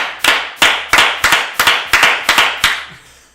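Nine loud, sharp hand claps at an even, brisk rhythm, close and alone with no talk, each with a short room decay, the last few slightly quicker before fading out.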